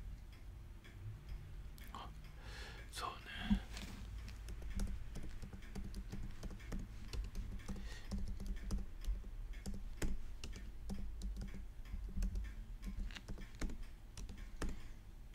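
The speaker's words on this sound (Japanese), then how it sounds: "タイピングの音でも聞いてください" Soft, fast typing on a computer keyboard in a quiet ASMR setting, with irregular bursts of light key clicks and taps at close range and no voices.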